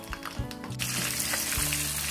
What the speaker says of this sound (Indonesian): ini yang aku goreng cabai sama bawang merah bawang putihnya dulu